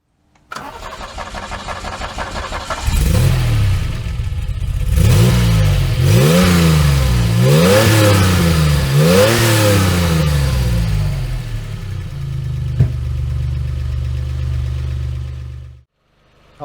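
Alpine A310 with the Peugeot-Renault-Volvo V6 cranks and fires up, then revs several times in quick rising and falling blips before settling into a steady, close idle that cuts off at the end.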